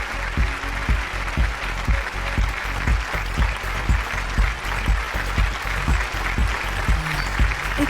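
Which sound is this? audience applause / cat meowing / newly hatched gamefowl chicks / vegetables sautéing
audience applause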